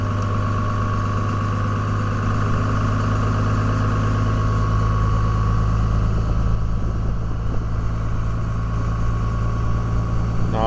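A 2002 Dodge 24-valve Cummins HO diesel runs at cold high idle in three-cylinder mode, a loud, steady, rumbling drone with the revs slowly climbing, heard alone and up close.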